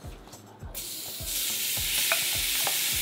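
Shrimp drop into hot oil and a loud, steady sizzle swells up and holds, while low, regular thumps of the pan or spoon pulse underneath.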